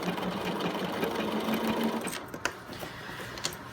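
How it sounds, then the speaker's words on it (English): A sewing machine back stitches on denim blue jeans, sewing the back pockets. It runs in a fast, close, steady mechanical whir, then slows into a few separate clicks and thumps near the end. "this machine is powerful enough that the needle will get stuck in it."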